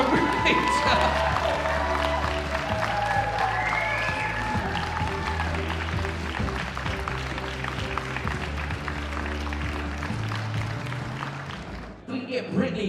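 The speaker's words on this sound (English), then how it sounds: "Ladies and gentlemen, make some noise for her." Wedding guests at Brittney and Greg's reception applaud and cheer for the bride on the dance floor, with steady broad clapping and whoops over loud dance music and some voices, fading near the end.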